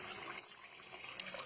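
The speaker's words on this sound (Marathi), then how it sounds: "पुन्हा एकदा ते पाणी घालतायत बघा." Water pouring steadily onto a surface during a Janmashtami temple ritual, a continuous broad splashing wash that stays fairly even and close throughout.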